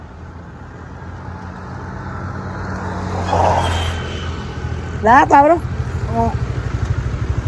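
A motorbike passes somewhere behind on a rural road, its engine a steady low drone in the background, swelling slightly, while someone talks over it.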